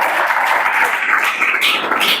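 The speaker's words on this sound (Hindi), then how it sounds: "जोरदार ताली विस्फोटक के लिए" A class breaks into a brief burst of dense, loud clapping that stays steady for about two seconds.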